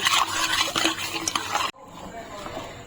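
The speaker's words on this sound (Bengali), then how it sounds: "আমি এখন ভালো করে মিশিয়ে নিচ্ছি" Agar agar powder being stirred into a mango and milk dessert mixture, busy utensil scraping and clinking against a pot that stops abruptly, leaving a quieter room hum.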